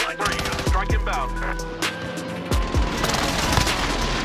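Video game gunfire in Call of Duty Warzone Pacific, dense overlapping shots and rapid automatic bursts with deep booms, loud and busy over a short stretch.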